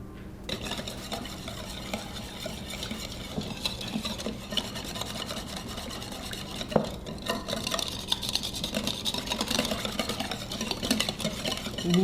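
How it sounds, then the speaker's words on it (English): A whisk beats cornstarch into a sauce mixture of bean and garlic sauce and sugar, giving a steady, rapid scraping and clinking against the bowl that runs continuously throughout with no talking. "You can use a fork, but I'm using a whisk. Breaking up that cornstarch."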